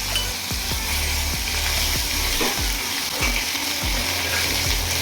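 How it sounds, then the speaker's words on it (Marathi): Onion paste frying in a hot pan of oil for a drumstick curry, a steady close sizzle with regular scraping stirring strokes, no voices. "आता कांद्याची पेस्ट टाकणार आहोत थोडीशी."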